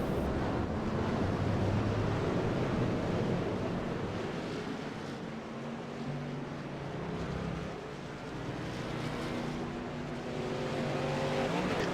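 Late model race cars rolling at Bristol Motor Speedway, a dense continuous engine roar with low drones, heard from a distance and blurred by wind, with no talk.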